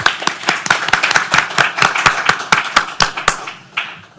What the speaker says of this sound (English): And a big round of applause for our panelists.